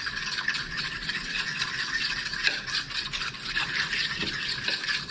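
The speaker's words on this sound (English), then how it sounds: "Let's go ahead and add a healthy amount of Parmesan cheese. And let's mix it up." Caesar salad being tossed with a generous amount of grated Parmesan cheese, giving a steady, close crackling and rustling of lettuce leaves with faint soft clicks, continuous and fairly loud with no talking.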